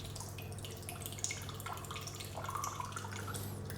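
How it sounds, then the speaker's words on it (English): Rice vinegar poured into a measuring glass for a barbecue rib marinade, a soft trickling, dripping stream close by with a brief splash near the end, quiet and without talk. "So I'm going to tip in the rice vinegar and get the same amount as I've got the water."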